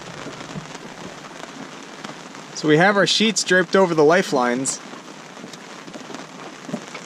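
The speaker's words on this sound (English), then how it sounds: "It's been raining pretty much every day, so we're using the rain to help clean stuff." Steady rain falls on a sailboat deck with sheets draped over the lifelines, a constant close hiss running through the whole scene while a person talks over it for a couple of seconds.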